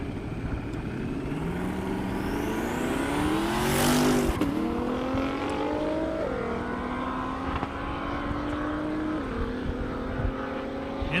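A 1,600 horsepower Camaro and a GTR drag race down an Indiana airport half-mile, their engines roaring loud and steady as they climb in pitch through the gears, with a whooshing pass near the middle.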